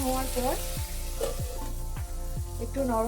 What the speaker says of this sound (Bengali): বেগুনটা আর শিমটা একসাথে দিয়ে দিয়েছি, কারণ দুটোই ভাজতে হবে।